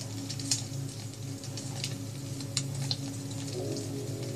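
Steady rain falls in The Walking Dead video game, a continuous soft patter with scattered louder drops over a low ambient music drone, no speech.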